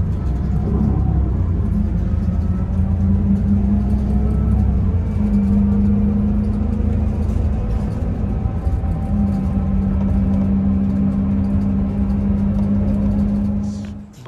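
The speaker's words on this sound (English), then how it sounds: "So I am in 171 bus" Steady low engine rumble and road drone heard from inside a moving 171 bus travelling from Chur toward Milan, continuous and loud for the whole stretch, with no talking.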